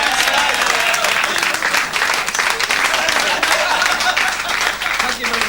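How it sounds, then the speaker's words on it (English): A crowd at a football club golf day applauds the nearest-the-pin winner, with steady, fairly close clapping and cheering that holds for several seconds. "Big round of applause."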